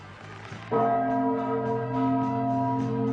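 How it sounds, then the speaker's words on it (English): A clock chimes the time with a deep, sustained bell-like tone that strikes suddenly and rings on, its ringing tones holding steady and loud to the end. "Right now, it's chime time."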